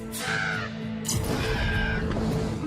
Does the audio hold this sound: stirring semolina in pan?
no